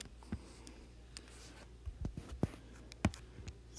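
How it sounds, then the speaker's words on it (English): Pen or marker writing out a math definition on a board or page, a faint scratching with a few soft taps and clicks over a low steady background hum. "now I'm going to write down one more definition"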